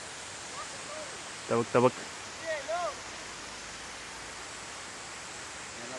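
A hidden waterfall at Jummapatti rushes with a steady, broad roar of flowing water that fills the whole clip, while a few brief voices speak over it partway through.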